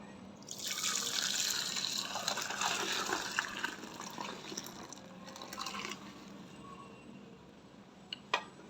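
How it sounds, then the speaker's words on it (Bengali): Milk pours into a yogurt maker in a steady splashing stream that gradually tapers off, with a small clink near the end. "তো এখন আমার এই দুধটা আমি এটার ভিতরে ঢেলে দিচ্ছি"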